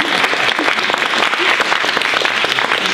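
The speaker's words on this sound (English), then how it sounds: "You can clap and make me feel" Close, loud applause from a café audience at a food-writing reading, a thick burst of clapping filling the whole moment without pause.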